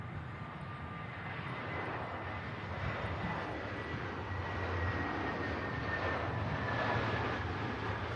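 An EasyJet airliner touches down at Manchester Airport on one wheel, its engines producing a steady distant roar that swells slightly as the landing goes on, with no one talking over it.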